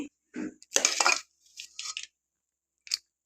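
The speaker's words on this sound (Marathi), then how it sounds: "आता एका वाडग्यामध्ये काढून घेते मी" A mix of chapati pieces and cornflakes is moved into a bowl with a few short, close scrapes and clinks of utensil against dish, separated by silence.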